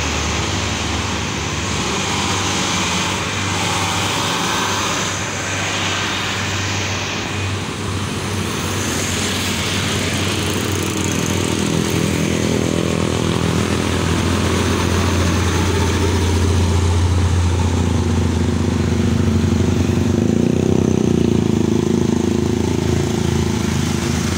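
Trucks including a Hino 500 passing on a road, a continuous roar of heavy diesel engines and traffic that swells louder toward the end.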